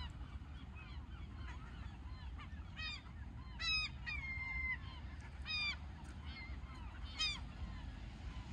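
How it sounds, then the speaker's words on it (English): Seagulls on Monhegan Island, Maine call in repeated sharp, rising squawks over a steady outdoor rumble, some cries loud and near, others fainter, arriving in irregular bursts. "Okay, yeah, seagull videos."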